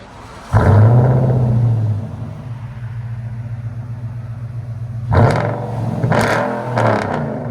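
An Infiniti Q70/M56 S with a 5.6L V8 and Vibrant bottle resonators in the exhaust starts with a sharp bark, settles into a deep rumbling idle, then is revved in a few loud blips.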